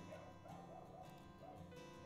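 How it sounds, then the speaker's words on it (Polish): A dog yips and whimpers in short repeated bursts at a Paris street location, faint and distant over low background. "psisko zaczęło tu szczekać"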